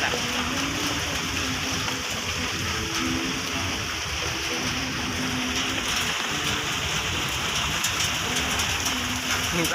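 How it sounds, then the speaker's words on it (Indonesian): Heavy rain pours down in a dense, unbroken hiss aboard a ferry on the Malacca Strait between Bengkalis and Pakning, steady and loud throughout, with faint murmurs beneath the roar. "sekarang kita hanya bisa menikmati pemandangan hujan yang sangat deras"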